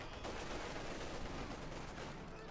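A field gun barrage from a real-time strategy battle in Company of Heroes 2 makes a dense, continuous rumble of overlapping blasts and gunfire, rather faint and steady throughout.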